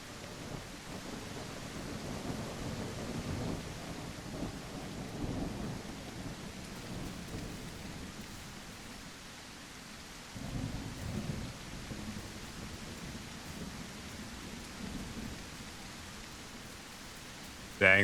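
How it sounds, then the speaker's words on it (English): A thunderstorm in The Isle Evrima game world: steady rain hissing on surfaces while low thunder rolls and rumbles in waves, swelling and fading, with a sharp burst at the very end. "Dang, this storm."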